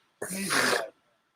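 A single forceful sneeze, close and loud, a sharp burst of breath lasting under a second, followed by quiet.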